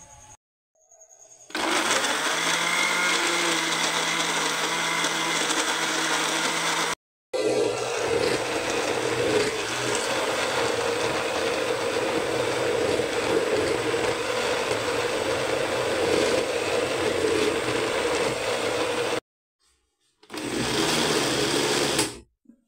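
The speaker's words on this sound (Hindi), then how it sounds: "जब तक मैं लहसुन अदरक पहले ग्राइंड कर लूँ" An electric grinder whirring garlic and ginger into paste, loud steady motor drone running in long bursts with abrupt stops and restarts, close by and with no talk.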